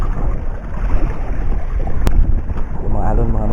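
Choppy sea and strong wind buffet a small fishing boat out on rough water, with a heavy constant roar of wind and water splashing close to the microphone and one sharp knock partway through.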